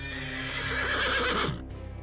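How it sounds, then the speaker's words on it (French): A horse whinnies loudly and close, a long wavering neigh that trails off into softer snorting at the end, with no talk over it. "le samouraï se réveilla, surpris par les hennissements de son cheval"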